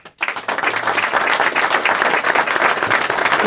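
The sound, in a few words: audience applause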